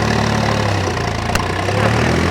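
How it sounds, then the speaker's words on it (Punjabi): A Massey 8055 tractor engine drones steadily under strain, a low, even rumble close by with a brief knock partway through, and no talking. "ਚੱਕਰ ਨਹੀਂ ਤੋੜ ਰਿਹਾ ਟਰੈਕਟਰ ਜਮਾ ਹੀ ਇੰਨੇ ਨਹੀਂ ਤਾਂ ਮਰ ਜਾਂਦਾ ਟਰੈਕਟਰ"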